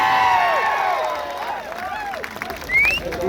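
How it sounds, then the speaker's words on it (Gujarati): Crowd at a political rally for a tribal MLA in Karjan, Gujarat, giving a sustained wave of clapping and cheering, with scattered whoops and some voices rising through the dense applause. "થોડા ઉત્સાહ સાથે તાળીઓ પાડજો"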